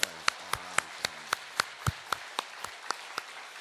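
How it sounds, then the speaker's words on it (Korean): A church congregation rehearses its applause with a short run of spaced, sharp hand claps, about a dozen distinct claps in a loose, uneven rhythm, fairly close and moderately loud with a quiet room between them. "박수도 연습 한번 해보겠습니다"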